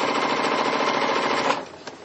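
A sewing machine stitches a quarter-inch quilting seam, running fast and steady in a loud, rapid rattling stitch for about a second and a half, then stops, followed by a small click.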